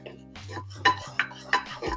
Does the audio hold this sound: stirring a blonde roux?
yes